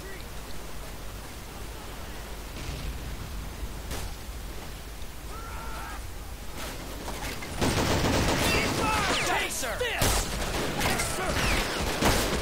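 Gunfire crackles through a World War II battle in the strategy game Men of War: Assault Squad, set during the Battle of the Bulge. Dense rapid bursts and explosions build to a louder barrage in the second half, with shouted voice lines mixed in.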